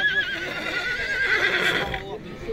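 A stallion at the Tokmok horse market gives a loud, close whinny that rises and trails off, with people talking and market noise around it.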